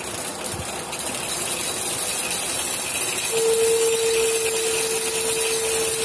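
A homemade electric bike's motor running at speed through a gear setup, a steady whirring drone with a broadband hiss, rising to a sustained whine as it speeds up, close and continuous.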